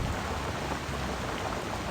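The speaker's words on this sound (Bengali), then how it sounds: "এখানে বৃষ্টি পড়তেছে" Dense, steady rain hiss in the racing video game Need for Speed Mobile fills the clip with a low rumbling undertone, constant and unbroken throughout.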